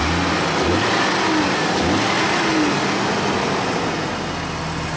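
An off-road vehicle engine on a Wyoming trail runs loud and close, swelling through repeated revs and easing back between throttle blips.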